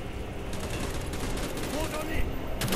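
Gunfire in the Call of Duty Black Ops campaign, a continuous rattling fusillade of automatic weapons heard through a dense mix of battle noise.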